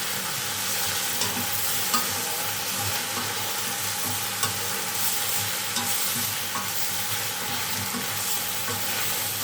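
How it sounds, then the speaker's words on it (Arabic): Onion stir-frying in a pan, an even, continuous hiss of frying with faint occasional stirring clicks, steady and close throughout. "افضل بقى اشوحها كده ايه شويه مع البصله"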